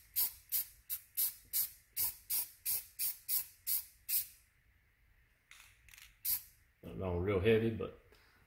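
A Skunk2 K24 intake manifold being spray painted in a garage, with a rapid string of about a dozen short, sharp aerosol hisses, then a few scattered bursts, close and loud, ending with someone speaking.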